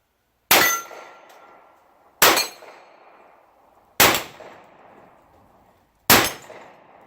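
Four sharp metallic clangs of rifle rounds striking steel targets at an outdoor range, each ringing briefly before fading, spaced about two seconds apart with no talking.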